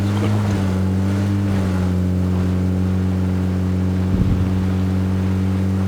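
A steady video-game vehicle engine drone hums continuously at a constant pitch, with a brief rough burst partway through; no voices.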